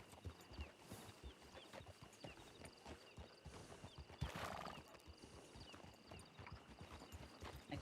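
Horses walk in a ranch role-play video game, hooves clip-clopping in a steady, dense rhythm with a brief whinny partway through, all fairly loud and close.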